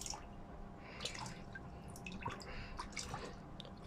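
Liquid water treatment is poured a capful at a time into a home aquarium holding a channa snakehead, giving faint, close, irregular drips and small splashes over a low background hum.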